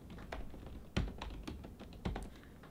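Quick keystrokes on a computer keyboard as an SSH command is entered at a terminal, an uneven run of light taps with a few heavier key strikes, close and fairly quiet with no talking.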